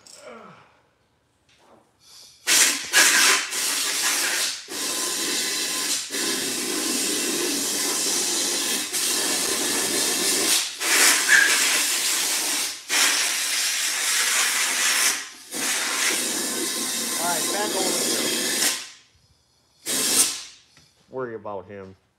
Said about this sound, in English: I love the air gun. It's my favorite tool.